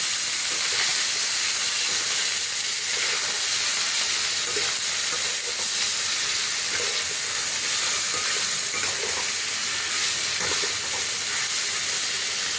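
Boiled jackfruit and potato fry in hot oil, a loud, continuous hiss and crackle that holds steady without a break.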